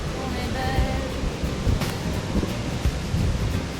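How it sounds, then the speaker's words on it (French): Strong wind on a dam in the Douro Valley near Amarante, Portugal roars and buffets steadily against the microphone, a dense rushing noise with gusty swells and no talking. "Nous sommes sur le barrage, il y a beaucoup de vent aujourd'hui."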